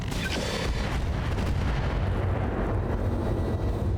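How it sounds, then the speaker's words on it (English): Enemy airstrike explosions in the BattleTech RogueTech mech strategy game, dense continuous rumbling booms and blasts, loud and sustained throughout, no talk. "Airstrike incoming."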